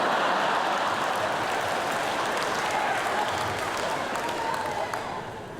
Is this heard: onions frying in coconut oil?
no